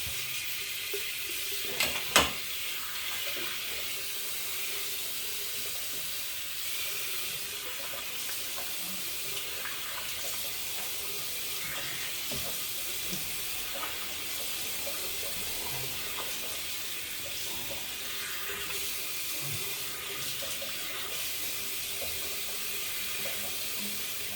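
Tap water runs steadily for a long stretch as a face is rinsed after a shave with a Kai safety razor blade, a constant, moderately loud wash of noise with one brief knock near the start.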